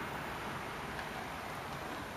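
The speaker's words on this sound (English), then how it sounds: "Oh man, it's raining like hell." Heavy rain pours steadily and close by in a humid outdoor spot, a dense even hiss with no breaks and no talk.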